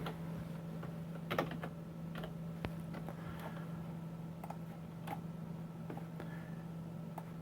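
Computer keyboard typing a terminal command, irregular clicks and taps in small bursts over a faint steady hum, close and fairly quiet.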